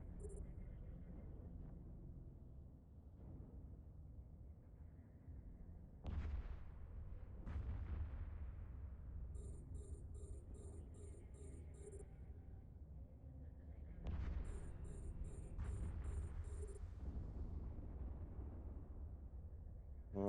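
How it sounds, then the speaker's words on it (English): Explosions in the space game Eve Echoes during a Raven Navy Issue mission thud and crack several times at irregular intervals, with a steady low engine-like hum and faint electronic beeps underneath. "Lots of very pretty explosions when I'm going through one of these missions."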